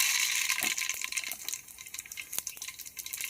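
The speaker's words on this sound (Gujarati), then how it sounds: "અડધી ચમચી રાઈ નાખશું" Mustard seeds drop into hot peanut oil in a pan, giving a steady bright crackling sizzle with sharp popping clicks scattered across it, fairly close and with no talking.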